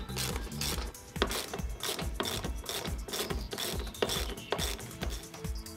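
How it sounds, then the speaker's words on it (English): Socket ratchet work on the pallet bolts of a TWIN BUSCH TW X-93 tyre changer: rapid, fairly quiet metallic clicking in repeated bursts, with small knocks and handling noises in between. "Use a size 10 socket to remove the machine from the pallet."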